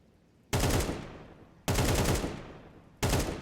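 Three loud, separate bursts of AK rifle fire in Counter-Strike 2, each a sharp crack followed by a short decaying tail, about a second apart, with no voices.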